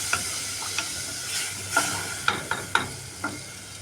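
Chopped tomatoes and peppers fry in a pan while a utensil stirs them, with a steady sizzle and several light scraping clicks against the pan, close and without talk.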